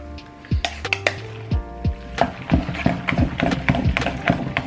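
A spoon or utensil clinks and scrapes against a bowl while salmon poke is mixed with sesame oil, a rapid run of close, sharp knocks and taps, quiet between strikes.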